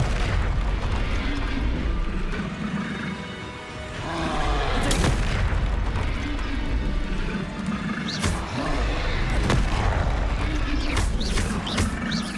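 Explosive blasts from the Confringo fire spell in Hogwarts Legacy, with several loud booms erupting over a continuous rumbling game backdrop, with sharp bursts around the middle and toward the end.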